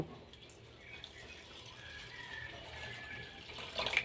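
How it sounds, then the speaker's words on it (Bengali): Flattened rice (chira) being rinsed in a bowl of water, a low steady watery swish and trickle throughout with a louder splash near the end. "এবার চিড়েটা আমি ধুয়ে নেব"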